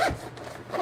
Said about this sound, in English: it zips right up